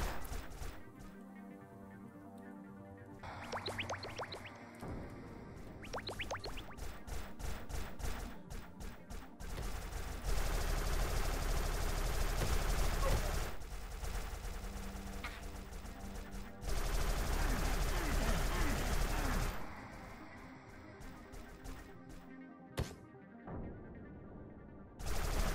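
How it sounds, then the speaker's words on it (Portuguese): Repeated bursts of gunfire in the video game Soldier Yoki, rapid volleys and single shots, with quieter gaps in between and some clanking impacts. "Meus amigos estão atirando em mim, mano."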